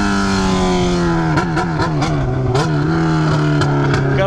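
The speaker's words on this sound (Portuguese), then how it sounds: "O barulho da moto também influencia" A Yamaha XJ6 motorcycle engine drones loudly up close, its pitch rising and dipping as the throttle is blipped repeatedly.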